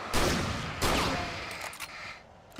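Two sharp, loud gunshot bursts ring out close by in the video game Alan Wake Remastered, followed by fainter scattered pops and a few lingering clicks.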